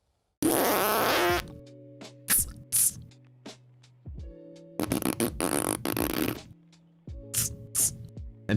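A cartoonish fart sound effect blares in several bursts, loud wet blasts with tonal buzzing that stop and restart between short pauses and little sputters.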